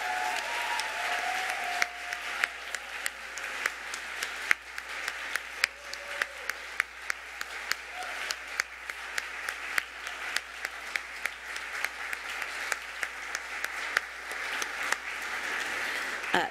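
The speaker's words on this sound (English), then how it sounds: "how about we show them a little love with a thunderous round of applause for each of these" A large crowd at a youth programs awards ceremony claps steadily and loudly, a dense sustained ovation with sharper individual claps standing out, a few brief faint voices underneath.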